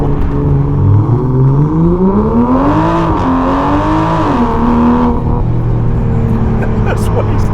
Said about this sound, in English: There's a bit of turbo lag, and then when that comes in, it's fierce